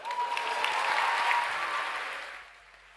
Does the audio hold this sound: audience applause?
yes